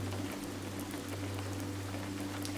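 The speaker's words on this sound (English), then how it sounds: "the rain heavily falls and a fog rolls in" Heavy rain pours down as a constant, dense patter over a low steady hum, with no voices.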